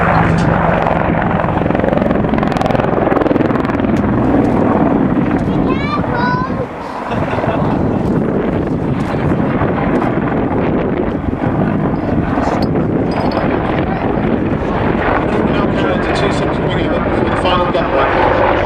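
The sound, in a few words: British Army Apache helicopter flying at an airshow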